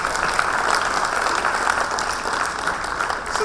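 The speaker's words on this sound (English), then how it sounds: "give a big round of applause for that" Audience at a growth mindset talk gives a big round of applause, a loud, steady, close wash of many hands clapping that continues unbroken throughout.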